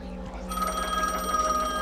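A telephone rings in the horror video game The Medium, a steady electronic bell tone with harmonic bands starting about half a second in and continuing throughout, fairly loud over a low background hum.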